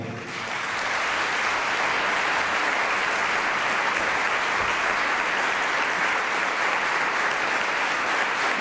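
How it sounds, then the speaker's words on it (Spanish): Strong, sustained applause from an audience in a chamber of deputies welcoming a speaker, swelling in within the first second and holding steady at a dense, even roar for over eight seconds. "Recibimos con un fuerte aplauso en el día de hoy"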